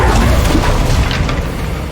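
Deep, rumbling blast from the Confringo fire spell in Hogwarts Legacy, a loud sustained boom with crackling texture filling the moment, fading only slightly.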